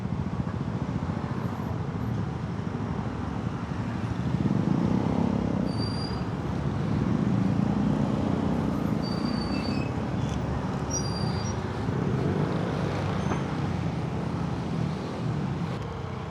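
Road traffic noise, heard as a constant close rumble that swells midway, with a few brief high squeal-like tones and no speech.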